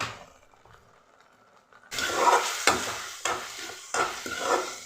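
Ginger garlic paste fries in oil for an egg gravy, starting quiet before a loud, close sizzle bursts in, broken by repeated scraping stirs of a spoon against the pan.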